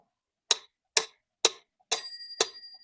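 Sharp ticks from an AODSK mechanical metronome at a steady tempo, about one every half second, with a bell-like ring on one beat and otherwise silence between.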